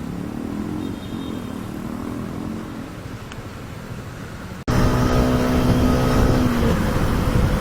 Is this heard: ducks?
no